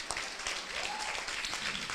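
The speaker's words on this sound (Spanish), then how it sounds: "Dale un aplauso al Señor" A crowd claps continuously and fairly loudly, a dense steady applause with a brief faint voice rising underneath.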